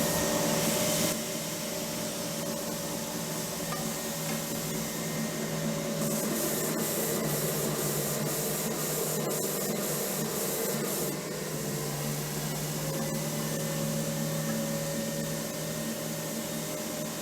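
Continuous rough rubbing of sandpaper against a surface, steady and close, with a slight shift in tone partway through.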